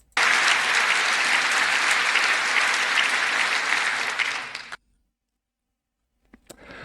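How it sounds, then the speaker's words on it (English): A full house of Congress gives a standing ovation, dense sustained applause from a large crowd lasting about four seconds before cutting off abruptly, followed by silence and a faint click. "Notice how everyone in Congress, full house, stands in ovation"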